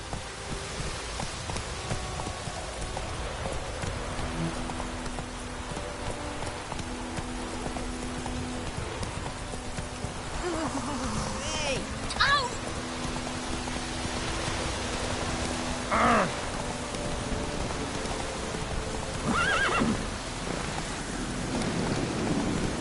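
Roach, a horse in The Witcher 3, runs through steady rain, with a constant wash of rainfall and faint hoofbeats underneath. Brief whinny-like cries rise out of it a few times, all at a moderate distance, with no talking.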